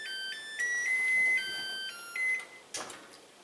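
An oven beeps to signal it has reached preheat temperature, a run of bright electronic tones in a short melodic pattern, followed by a brief clatter in a quiet kitchen.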